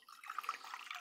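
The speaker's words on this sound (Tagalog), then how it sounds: "Lagyan lang natin ng tubig." Tap water pours steadily into a cooking pot holding eggs being readied for boiling, a close, bright splashing stream that runs alone for about a second.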